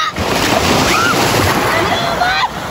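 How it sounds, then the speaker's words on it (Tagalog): Ocean waves wash onto a beach in Bataan, a loud, steady surf rush close by with wind buffeting the microphone and faint voices in the background. "mahina pa kasi yung alon eh"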